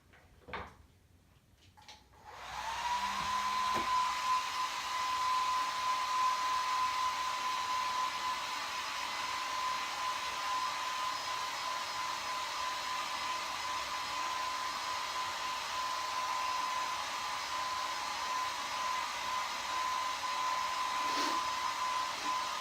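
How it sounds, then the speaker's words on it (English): A hair dryer switches on after a few seconds of handling noise and blows steadily with a constant whine, loud and close, until the end. "I'm going to hit this with a hairdryer."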